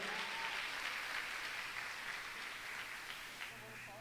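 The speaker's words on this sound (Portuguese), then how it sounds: "Aplauda Jesus pela vida do nosso pastor." A church congregation applauding at a Sunday-morning conference service, a steady, dense wash of clapping that holds fairly evenly for the whole stretch, with a faint voice showing through near the end.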